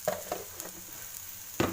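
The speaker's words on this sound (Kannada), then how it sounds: "ಸ್ವಲ್ಪ ಇದೆಲ್ಲ ಫ್ರೈ ಆಗಿದೆ, ಸ್ವಲ್ಪ ಫ್ರೈ ಆಗಬೇಕು" Food frying in a pan for a side dish for rice, chapathi or puri, a soft steady sizzle with a few light stirring scrapes, ending in a louder scrape.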